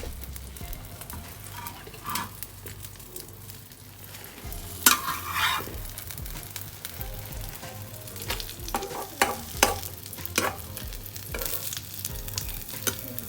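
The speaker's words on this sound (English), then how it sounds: "After 1 minute, just turn it. Just fold the omelette in a half moon shape." A sprouted green lentil omelette sizzles steadily in a hot pan while a spatula scrapes and flips it, with sharper clatters and turning sounds breaking through the frying, no voices.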